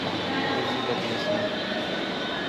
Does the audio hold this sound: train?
yes